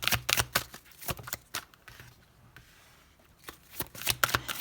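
Tarot cards are shuffled and drawn at close range: quick papery riffles and snapping flicks come in bursts, ease into a quieter lull, then pick up again.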